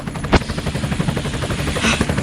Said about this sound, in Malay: Ada bunyi helikopter lah.